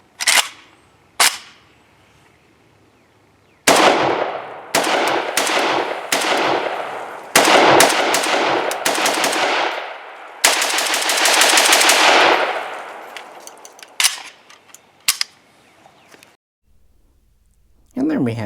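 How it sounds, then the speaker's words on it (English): A Romanian AES-10B AK rifle fires through a magazine outdoors, with sharp single shots and loud rapid strings of fire echoing, then silence after the last rounds. "AES-10B, last mag of the day."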